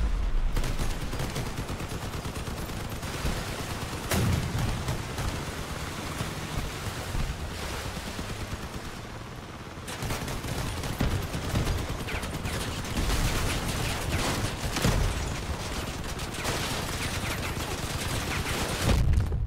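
Vehicle-mounted guns fire in the Crossout combat game: dense, continuous bursts of gunfire rattle almost nonstop over a heavy rumbling engine bed, with a brief lull near the middle before the shooting resumes.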